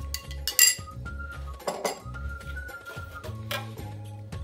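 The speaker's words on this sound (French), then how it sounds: "Je vais diluer avec un peu d'eau tiède pour mélanger le tout" A spoon stirs baker's yeast into a little lukewarm water, clinking and tapping against a small bowl in quick, light strokes, close and soft, with faint background music.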